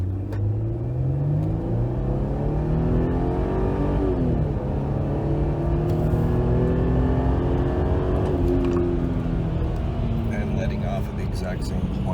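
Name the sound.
car engine revving while accelerating hard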